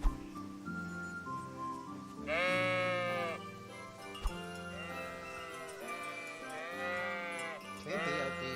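Sheep in the video game Kingdom Come: Deliverance bleat repeatedly in a farm setting, several loud, wavering calls overlapping one another over steady background ambience, with a faint clink near the start.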